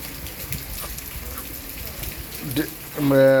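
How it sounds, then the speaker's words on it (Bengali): Steady rain falls in Odisha, a close, continuous patter with a brief tonal sound at the end. "আজকে আমাদের উড়িষ্যায় বৃষ্টি হচ্ছে"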